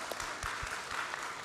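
An audience clapping at a small-group leaders' training session, a brief patter of many hands, moderately faint and even, with no talk over it.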